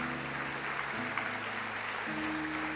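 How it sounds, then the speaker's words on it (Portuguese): A church congregation claps together in a steady, dense round of applause that fills the room, with sustained keyboard or organ tones held beneath the clapping throughout. "Dá uma salva de palmas ao Senhor."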